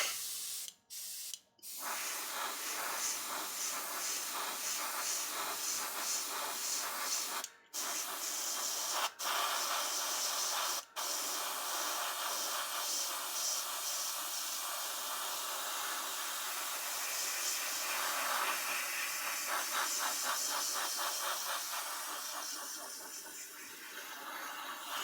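An airbrush sprays ICM paint in a steady, close hiss that runs continuously, broken by a few brief cutoffs early on, then continues unbroken to the end.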